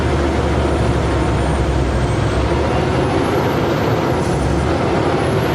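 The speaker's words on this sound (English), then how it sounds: "I doubt the computer's gonna let me upshift," A truck crawling up a mountain climb in low gear sends out a loud, steady engine and road roar for the whole stretch, with no audible shift and no talking.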